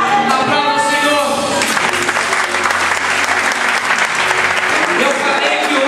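A congregation in an evangelical church breaks into loud, sustained applause after a preacher speaks, the clapping swelling up under his voice and then continuing close and dense.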